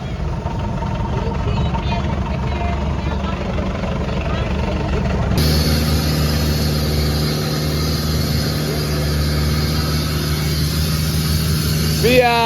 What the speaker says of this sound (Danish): der er en kæmpe fed motor lige bag os